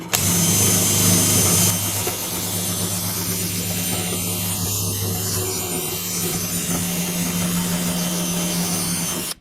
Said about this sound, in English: I'm just going to wire brush it a little bit more and see if I can expose that green paint